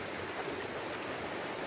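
An irrigation canal beside the fish ponds at Manjari Organic Farms flows with a constant, even rush of water, close and moderately quiet, with no talk over it.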